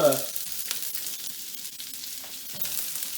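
Broccoli and carrot hit a smoking-hot stir-fry pan with a loud initial burst of sizzle that settles into a steady, crackling fry, close up and without talk.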